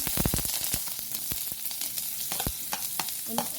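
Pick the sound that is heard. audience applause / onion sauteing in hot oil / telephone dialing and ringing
onion sauteing in hot oil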